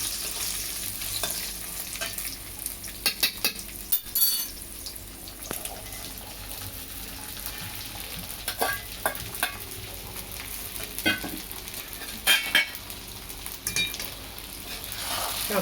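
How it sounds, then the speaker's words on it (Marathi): Potato slices and sago pearls sautéing in a pan, with steady soft sizzling and irregular scraping stirs of a spatula throughout, close and moderately quiet. "व्यवस्थित परतायचं आहे।"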